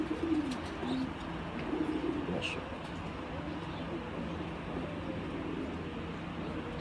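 Cooing from baby pigeons of a breed with red eyes, kept by a pigeon fancier, runs as a soft, steady murmur under low background noise, with some brief chirps near the start.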